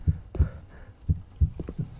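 A heavy heartbeat thumps in the horror game A Devilish Nightmare, with deep paired beats repeating steadily, loud and close with no talking over it.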